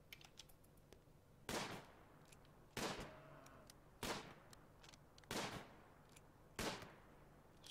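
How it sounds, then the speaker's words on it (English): Five sharp shots crack out at evenly spaced intervals of about a second and a quarter, each with a quick fade, over a quiet low hum as a colonist fires in the video game Rimworld. "You, sir, are going to stand there and just shoot it from where you are."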